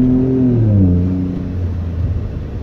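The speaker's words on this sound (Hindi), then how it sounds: "टर्बो ऑन हो है।" Turbocharged car accelerating, a loud close engine note with pitch sweeping and rising as it builds speed, steady roar with no talk.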